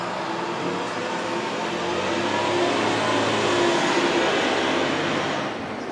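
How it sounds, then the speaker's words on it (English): Garbage truck passing outside, a loud steady engine roar and rumble that swells toward the middle and then eases, heard alone without talking. "Garbage truck."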